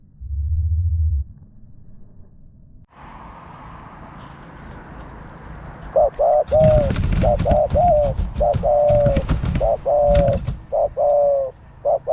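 A spotted dove coos at close range in the Phrae countryside, deep rhythmic hooting phrases repeated several times in quick succession, preceded by a low thump and a steady background hum.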